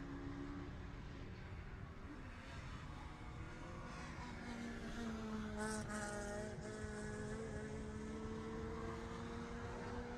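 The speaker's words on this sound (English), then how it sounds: "So the first few cars coming around" Time attack race cars lapping Oulton Park circuit, engines droning from a distance with rising and falling pitch as they pass, under a constant background wash of ambient noise.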